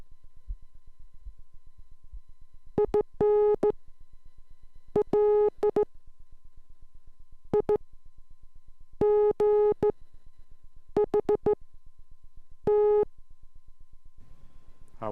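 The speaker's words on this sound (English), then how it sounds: "The dits and the dots sound the same to me." Slow Morse code sent as a steady pure tone, with short dits and longer dahs grouped into letters and separated by silent gaps, clear and alone with no talking.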